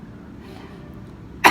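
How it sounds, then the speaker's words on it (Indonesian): A woman gives a single sharp, forceful cough as a breathing exercise, a short loud burst at the end after a quiet pause with faint room noise. "sekarang Ibu melakukan batuk efektif"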